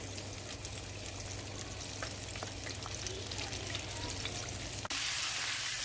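Mustard-coated chicken fries slowly in a pan over medium-high heat, giving a steady, close crackling sizzle that holds throughout and swells a little louder near the end.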